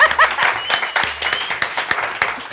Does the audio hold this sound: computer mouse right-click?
no